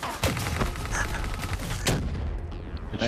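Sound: gunfire in Call of Duty: Black Ops 3 video game

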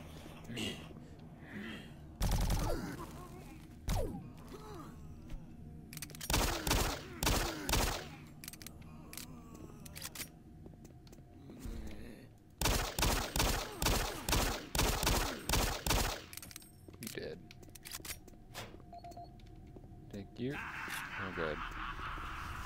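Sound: gunfire from the video game Doom 3

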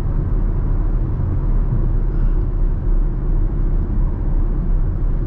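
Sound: Chevrolet Camaro car driving

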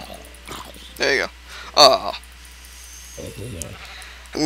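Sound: sheep bleating in video game Minecraft

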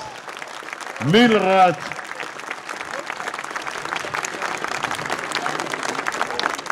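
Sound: audience applause for a marching band formation

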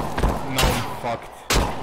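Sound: gunfire in video game Escape from Tarkov

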